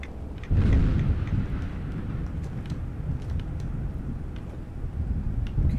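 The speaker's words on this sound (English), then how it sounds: "Wow, bad rad storm." A roaring thunderstorm during a rad storm in the video game Fallout London, with a heavy thunder rumble breaking in early and then a continuous loud wash of rain and wind, and no talking.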